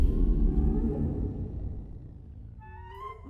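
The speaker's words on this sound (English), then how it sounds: "Was that your stomach" A deep, rumbling gurgle that swells low and loud then fades, ending with a brief higher squeaky wobble, close and without talk.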